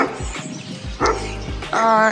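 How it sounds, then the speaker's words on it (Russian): Several dogs crowd around and bark in loud, close, overlapping bursts, with a few yips between the barks. "меня просто окружили собаки."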